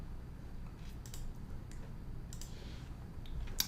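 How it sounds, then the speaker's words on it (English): A computer keyboard's shift key and mouse give a few soft, faint clicks, isolated taps spread irregularly over a quiet room hum. "I'm clicking the shift button here."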